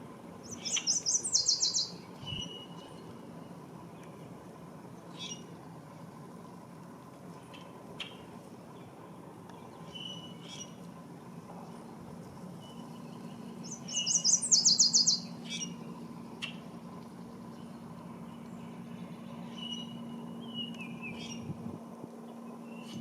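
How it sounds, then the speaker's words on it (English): Yellow warbler singing two short, bright, high-pitched phrases several seconds apart, fairly distant, over faint outdoor background hiss with scattered other small chirps. "Yellow warbler."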